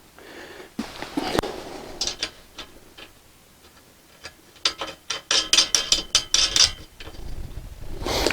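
A ratchet wrench tightens stainless steel bolts on a solar panel ground mount, giving bursts of rapid, close clicking that grow louder and denser toward the end.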